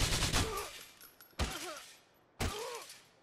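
Gunfire in Grand Theft Auto IV, three sharp shots spaced about a second apart, each followed by a ringing, decaying tail.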